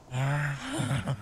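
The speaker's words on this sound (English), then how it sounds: "I hear heavy breathing." Heavy, raspy breathing from a survival horror video game with cannibals in a forest, heard as one drawn-out gasping breath followed by a shorter groaning exhale, close and alone.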